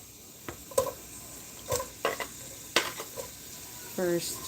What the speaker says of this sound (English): your oil gets hot, you're going to add in your onions